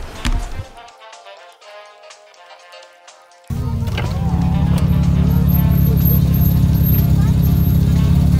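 A car at an import car meet in Seattle rolls past with a deep, loud engine rumble that surges in suddenly and holds steady, after quieter moments with voices nearby.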